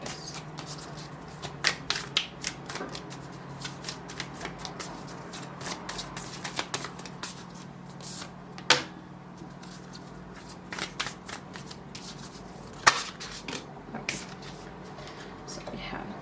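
Moonology Oracle cards being shuffled by hand in a quiet room, a steady run of soft papery riffles and flicks with a few sharper snaps, fairly close and low in level, with no talking.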